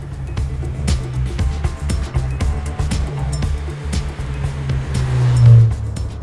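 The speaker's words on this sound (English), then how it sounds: "It's like this little cute little car that comes at you with all this noise." A small Abarth car runs with a loud engine and rasping exhaust, a steady low drone that swells toward the end, with no talk.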